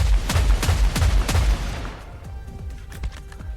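Marksman rifle fire in the shooter game Killing Floor 3, a fast, loud string of sharp shots that stops halfway through and leaves quieter game sounds and scattered fainter shots.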